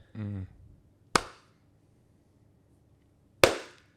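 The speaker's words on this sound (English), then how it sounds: "That was a deep clap." Two sharp, separate hand claps ring out at the start of a podcast episode, spaced a couple of seconds apart against near silence, following a brief voiced sound beforehand.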